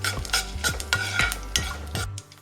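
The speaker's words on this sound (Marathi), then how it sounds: "एक छोटी मिरची घेतलेली आहे लाल आपल्याला परतवून घ्यायचं आहे" A spoon stirs fenugreek seeds and a small red chili sautéing in a pan, making a steady rhythm of about half a dozen scraping strokes over a low, continuous sizzle, close by and without talk.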